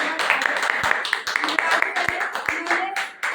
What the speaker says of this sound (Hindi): जोरदार तालियों से गुरुदेव